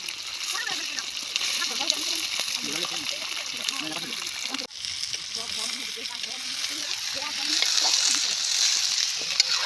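Fish frying in a pan gives a steady, close sizzle and spattering hiss throughout, with stirring noises, while people talk over it.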